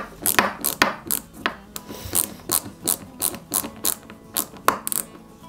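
Screws being driven into a 1/8-scale Ford Gran Torino model kit, close-up rapid ratcheting clicks from a screwdriver in regular bursts, a dozen or so pulses with short pauses, no talk.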